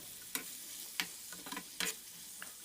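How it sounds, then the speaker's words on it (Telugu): Chopped tomato is stirred into a broad bean curry in a pan: a handful of sharp, irregular spoon scrapes and clicks over a faint, steady sizzle. "సన్నగా తరిగిన టొమాటో ముక్కల్ని కూడా వేసుకొని ఒకసారి బాగా మిక్స్ చేసుకోవాలి"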